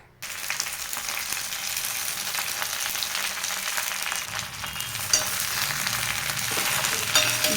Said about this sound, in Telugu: ఇప్పుడు తడేమీ లేకుండా తుడిచేసుకున్న గోంగురాకులను అయితే ఈ ప్యాన్లోకి వేస్తున్నా